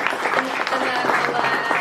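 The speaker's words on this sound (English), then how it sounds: "So I guess we will give you an applause" An audience at a talk applauds the presenters in a short, steady burst of moderately loud clapping that continues for the whole moment.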